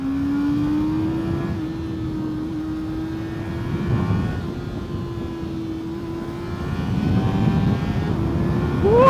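A sport motorcycle engine revving up through a gear, a rising whine that swells louder toward the end, heard close from the rider's position without talk.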